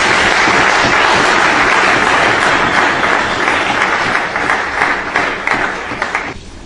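Loud, close applause from an audience at a Congolese patriotic gathering, dense clapping that holds strong then thins and fades near the end, with no voices over it.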